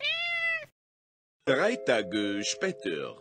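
An animated cat gives a clear, drawn-out meow at the start, followed by a pause and then a run of busier high voiced calls, in a SeniorenZocken cartoon with speech also present.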